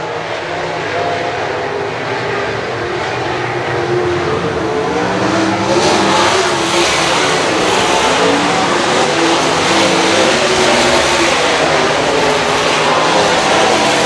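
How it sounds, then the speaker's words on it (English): Sprint car engines roar at racetrack volume, a dense, continuous wash of engine noise as the cars race around the track, loud and unbroken throughout. "Kyle Fedek walks on the throttle"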